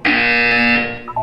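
A harsh, loud electronic buzzer in the video game Portal 2 sounds once for about a second, steady and close, then fades out with a brief tonal blip at the end.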